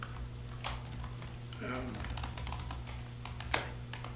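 Keyboard typing clatters in irregular bursts during a planning commission meeting, with a steady room hum beneath, faint voices in the background, and one sharper key tap near the end.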